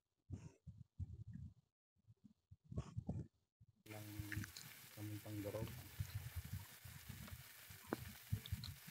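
Chopped onions fry in a pan for chicken caldereta, a steady close sizzle that starts abruptly and follows bursts of quiet talk.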